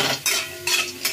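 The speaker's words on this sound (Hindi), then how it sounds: "इसमें ये बड़ी भी डाल देंगे जो उड़द के दाल की बड़ी होता है ना, वो भी हम थोड़ा सा फ्राई कर लेंगे" Urad dal bari being stirred and fried in a kadhai with very little oil, giving a short close burst of scraping stirs and light clinks of a spoon over a soft sizzle.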